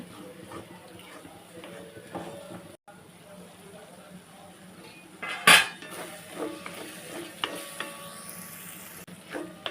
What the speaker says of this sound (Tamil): கரம் மசாலா ஒரு டீஸ்பூன் மசாலாம் போட்டு எண்ணெயிலேயே ஒரு ரெண்டு நிமிஷம் வதக்கிட்டு